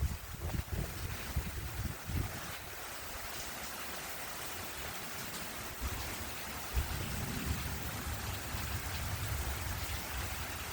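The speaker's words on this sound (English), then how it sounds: "Oh yeah, that's some heavy rain." Heavy rain pours steadily during a cold front, a dense continuous wash of drops hitting the ground and surfaces nearby, with a few heavier thumps early on and a slight swell in intensity toward the end; no one speaks.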